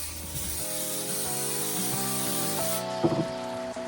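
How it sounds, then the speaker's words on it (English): Spray glue hisses steadily from an aerosol can, a continuous close hiss lasting a few seconds while faint music plays in the background. "we're going to use a spray glue to stick them to the wall"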